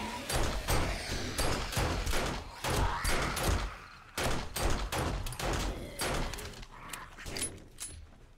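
Pistol fired repeatedly in the survival game 7 Days To Die, a rapid series of about a dozen sharp, loud shots in irregular bursts with brief pauses between volleys.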